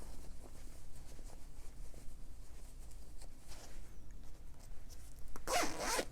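A zipper on a sewn fabric pouch is pulled closed in one quick, close zip near the end, after quiet rustling and soft handling noises.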